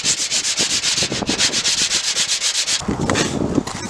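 Rhythmic back-and-forth sanding scrapes on the steel body of a Volkswagen Beetle being prepped for Bondo filler during a budget turbo Bug restoration, steady and close, with a brief pause and rougher strokes near the end.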